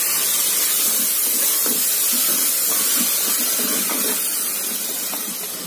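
Tomatoes cooking in a pan for mushroom biryani, a steady bright sizzle and hiss with faint bubbling pops, close and continuous without talk.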